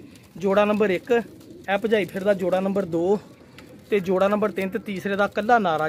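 Domestic pigeons in a small breeding loft coo softly in the background while someone talks over them almost continuously, nearby and fairly loud.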